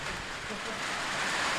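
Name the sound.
rain falling on a sports field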